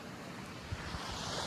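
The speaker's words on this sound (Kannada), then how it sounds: "ಈ ನಿಶ್ಶಬ್ದದ ಜಾಗದಲ್ಲಿ ಆ ಕಡಲ ಸದ್ದು ಕೇಳಲು ಎಷ್ಟು ಇಂಪು." Sea waves wash against the shore in a brief, steady, soft rushing wash.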